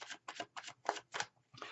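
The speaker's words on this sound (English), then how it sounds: "Cards are shuffled." Tarot cards being shuffled in quick repeated riffling bursts, about six short rustling flurries separated by brief pauses, close and fairly quiet with no voices.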